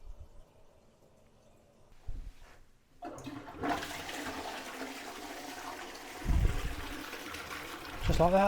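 A household toilet with a broken flush is flushed. A click and clunk are followed by a loud, rushing surge of water that carries on steadily with gurgling near the end.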